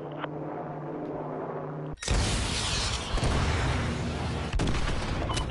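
Dense, continuous gunfire and battle noise from the Call of Duty mission No Russian, a loud sustained barrage that breaks in suddenly after a quieter stretch of low rumble and continues without letup.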